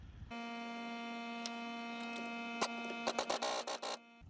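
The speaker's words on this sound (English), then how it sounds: "Okay, I have reached the point where I'm going to need some air. Time to flip on the compressor." An air compressor runs in a home garage during a 5-lug swap on a Foxbody wagon, giving a loud, steady motor hum with a tonal whine. Several rattling clatters break in near the end.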